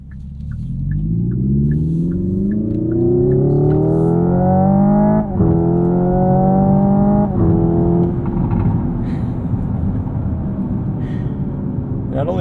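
Synthetic engine sound played through the cabin of a 2025 Hyundai Ioniq 5 N electric car in its custom N mode, rising loud and steady like a revving combustion engine, with shifts and crackling pops and burbles as it comes off the revs.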